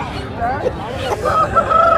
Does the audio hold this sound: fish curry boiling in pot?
no